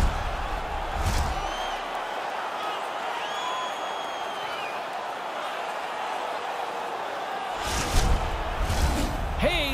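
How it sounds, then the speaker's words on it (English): An arena crowd in the NHL 22 hockey video game roars in a steady, loud wash of cheering, with a commentator talking over it and a brief thud near the end. "this crowd on fire now here in the arena"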